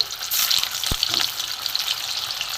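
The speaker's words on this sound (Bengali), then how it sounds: "জলে ছিটাচ্ছে, তেলটা ছিটাচ্ছে" Oil spatters while paneer fries in a pan for a Kashmiri paneer dish, making a loud, dense, crackling sizzle with one sharp knock near the start.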